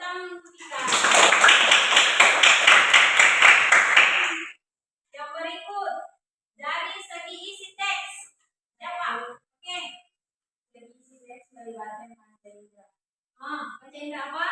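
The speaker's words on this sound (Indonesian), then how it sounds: "Tepuk tangan untuk kita." A group applauds in a classroom during a lesson on Gayo arabica coffee, a dense burst of hand clapping lasting a few seconds before it stops and a teacher's speech continues in short phrases.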